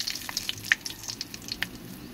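Whole spices fry in hot oil for a mutton dish: mace, bay leaf, cardamom, clove and cinnamon. Close, brief bursts of crackling and spitting pop against a soft sizzle.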